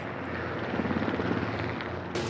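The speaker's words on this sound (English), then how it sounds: "As soon as the spotter helicopter moves the herd towards us" A spotter helicopter flies over a herd, its rotor throbbing as a steady, loud drone that fills the whole stretch without a break.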